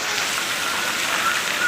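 Steady rain pours down in Mehsana, falling onto a vehicle and surfaces below, a dense, even hiss that stays near and constant throughout with no voices.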